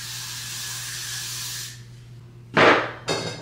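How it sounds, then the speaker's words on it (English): Got to Be hairspray misted onto freshly curled hair: a long steady aerosol hiss, then two short sharp bursts close to the mic, with no talking. "I'm gonna spray it with some Got to Be real quick just to make sure that they don't fall."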